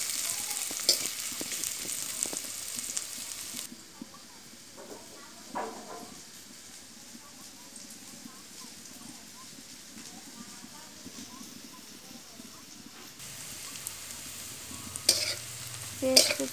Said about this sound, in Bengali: পেঁয়াজ দিয়ে হালকা হালকা ভাজিছে, আর একটু ভাজিয়ে দিলে মাছটি দিয়ে দিব।